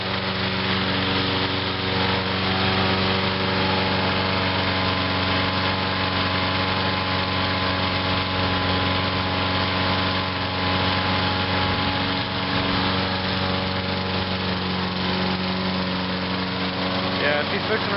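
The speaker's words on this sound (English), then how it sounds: "Yeah, the engine's starting to slow down now." A lawn mower engine idles steadily with a constant droning hum and vibration as it runs low on fuel before winter storage, holding an even, continuous tone with little change.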